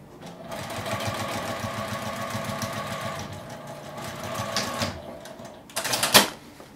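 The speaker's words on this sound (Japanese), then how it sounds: "縫い代を表側に倒して端を縫います。" A sewing machine stitches along the edge of a fabric pencase with a partition, running steadily in a fast, even mechanical patter, then pausing before a short final burst of stitching.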